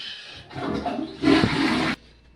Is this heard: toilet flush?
yes